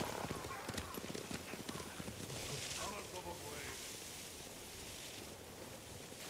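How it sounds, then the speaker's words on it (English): Horses gallop in the Ghost of Tsushima video game, hooves thudding in a dense, steady run under a broad windy hiss that slowly thins out. "Bastards scared off the horses."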